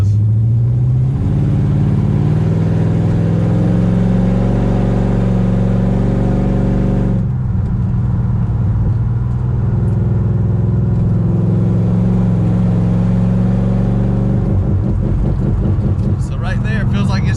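A 1968 Dodge Charger with a Hemi engine and NAG1 transmission revs loud and steady, its sustained drone holding near one pitch as if bouncing off a rev limiter, then dropping abruptly and building again, with talk over it inside the car.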